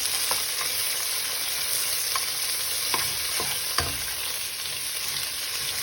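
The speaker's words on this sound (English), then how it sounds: "And there should be a slight sizzle." Steady hiss of peppers frying in hot oil for Dominican pollo guisado, with a few sharp clinks and scrapes of a spoon stirring through the pan.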